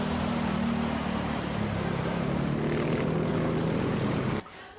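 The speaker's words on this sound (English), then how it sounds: "And next guys, aeroplane." A toy airplane gives a steady whirring, propeller-like drone with no talk, sounding continuously for over four seconds before it cuts off abruptly.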